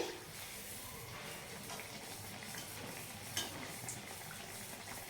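Banana malpua fries in oil on a low flame, a faint, steady soft sizzle with one small clink partway through.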